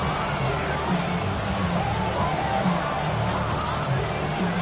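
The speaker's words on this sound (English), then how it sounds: "The crowd cranking it up another notch before third and long" A football stadium crowd during a Cowboys game, building before a third-and-long play. A dense, steady roar of many voices fills the whole span at an even level, with no single voice standing out.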